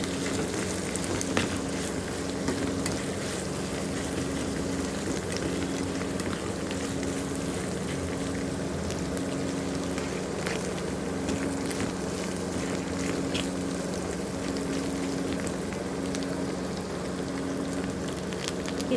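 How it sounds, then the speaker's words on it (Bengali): Onions and green chillies frying in oil in a wok produce a steady, close sizzle with a constant crackling hiss and a low hum beneath it, with no talking. "মানে এটা ভালো করে ভেজে নেব"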